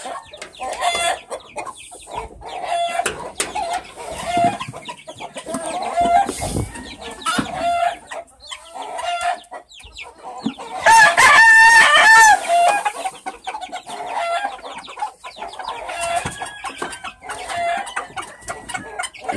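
Yellow-legged hens cluck and chatter steadily in a farmyard pen while a rooster crows loudly once midway, the flock noise continuous and close throughout.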